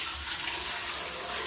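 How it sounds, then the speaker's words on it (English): Turkey broth pours in a steady, continuous gush into an Instant Pot, a close, broad liquid rush with no pauses. "Now I'm going to pour this right back into the Instant Pot."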